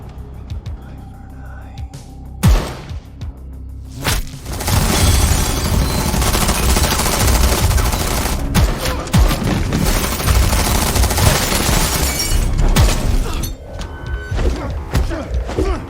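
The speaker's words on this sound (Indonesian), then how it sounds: "yang berhasil menemukan senjata milik Kenny segera membidik sniper musuh dan inilah yang terjadi." Gunfire at an enemy sniper in a film scene: a few sharp shots and thuds early on, then a long, loud, dense barrage of rapid shooting and impacts that rolls on with little pause before easing near the end.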